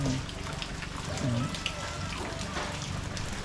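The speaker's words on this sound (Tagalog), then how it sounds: "walang tigil ang ulan" Steady dense heavy rain patter fills the whole clip ahead of flooding, a broad hiss with scattered drops, while a voice talks briefly over it near the start.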